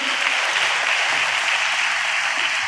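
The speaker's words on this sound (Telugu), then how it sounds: "చప్పట్లు కొడితే యేసయ్యకు స్తోత్రాలు చెప్దాం." A church congregation claps together during a Telugu worship service, a loud, continuous burst of many hands heard close with no talking.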